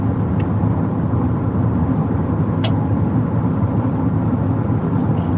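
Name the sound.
Jeep driving on the highway at 80 mph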